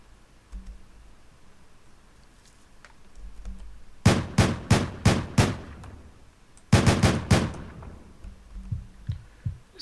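Gunfire in the video game Deadbolt: two quick bursts of sharp, evenly spaced shots, five then four or so, ringing out loud over a quiet background.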